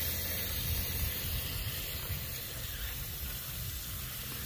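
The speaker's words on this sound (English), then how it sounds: "I'm trying to spray it down to the roots. And I've got some water going in these little areas." Garden hose spraying water down toward the roots of plants in a raised garden bed, a continuous hiss that stays soft and even throughout, with no talking.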